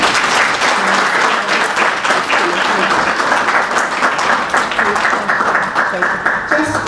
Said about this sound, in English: give you a final round of applause